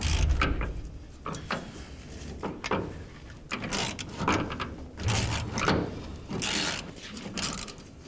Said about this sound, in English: To do this, you want to use an E10 socket.